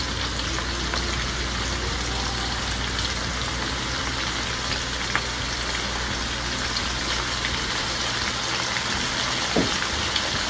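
Bottle gourd with black cumin sizzling in a pan, a dense, even hiss like rain on a surface running steadily throughout, with occasional faint clinks and no speech.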